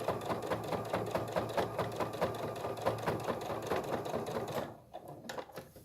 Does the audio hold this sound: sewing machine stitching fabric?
yes